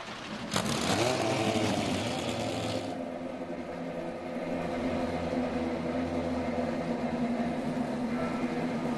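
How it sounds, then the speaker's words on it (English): Twenty INDY NXT race cars fire up at Laguna Seca, a sharp start followed by a dense, distant drone of many engines idling and revving together, steady and fairly faint for several seconds. "Twenty cars are fired up"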